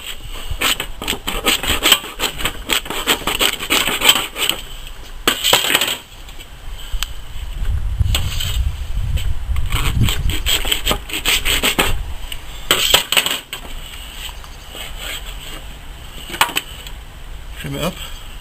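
A knife cutting and trimming a venison loin into chops, heard as steady close rubbing and scraping strokes with a few sharper knocks, under a constant background hum and a low thud midway.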